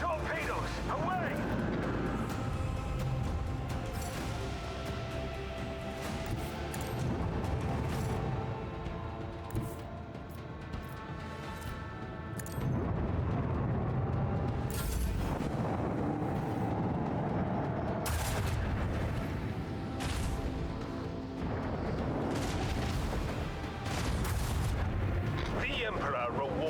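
Starship lance battery volleys and torpedo launches in the Rogue Trader video game, a dense continuous rumble of heavy booms and blasts layered over one another, with a voice speaking over parts of it.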